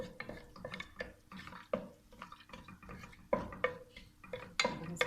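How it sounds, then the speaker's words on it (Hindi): Garam masala spices lightly frying in half a cup of oil in a pan, with soft sizzles alongside irregular clinks and scrapes of a utensil stirring against the pan, close and fairly quiet. "इसको हल्का सा फ्राई कर लेते हैं।"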